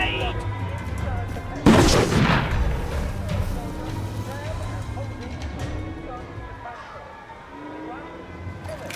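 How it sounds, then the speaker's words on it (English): A grenade explodes in We Happy Few with one heavy, close burst that decays over a few seconds into scattered battle noise, while voices shout and talk throughout. "Grenade!"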